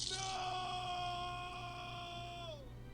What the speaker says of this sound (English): As if it wasn't already terrible enough hearing our characters scream, developer PopCap had to add in crunching sounds